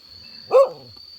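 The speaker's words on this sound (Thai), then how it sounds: "หมายังเห่าเลยนะดูดิ" A dog gives a single short bark, near and clear, against a quiet background with a steady high electrical whine.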